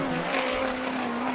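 A USAC race car, the #9 driven by Dason Pursley, laps Arizona Speedway with a loud, sustained engine howl that holds a steady pitch close up, with no talking over it.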